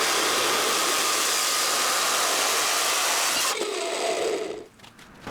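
Metal cutting band saw slicing through 50 by 50 by 5 mm steel rolled hollow section, a loud continuous grinding whine that shifts tone near the end and then drops off as the cut finishes.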